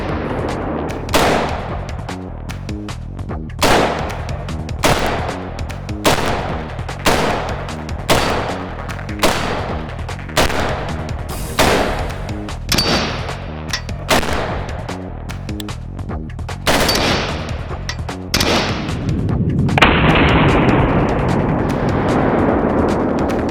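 HK 416 rifle fired in a rapid series of about fifteen loud, sharp shots at fairly even intervals, each followed by a brief echo. The shots end in a lingering rumble.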